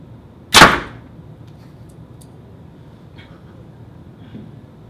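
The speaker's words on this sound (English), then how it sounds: "throw an arrow through the paper, see what it's doing" A single sharp arrow release from a PSE Xpression compound bow punches through a paper tuning sheet, a loud broadband snap and tear near the start that fades quickly into a quiet, steady room background.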